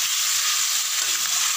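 Mutton pieces fry with onions for an Assamese-style goat curry, giving a steady, bright, continuous sizzle with no voices.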